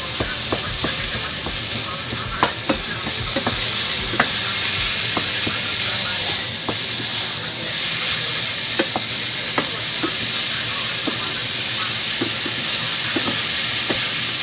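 Ground meat stir-frying with chilies and shallots in a pan, a loud steady sizzle and hiss with sharp intermittent clacks of stirring.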